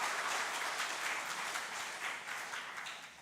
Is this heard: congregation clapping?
yes